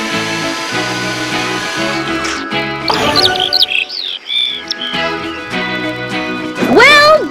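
A little bird chirps in a Paw Patrol children's video game, bright rising tweets set over cheerful game music and sound effects that build to a loud final flourish.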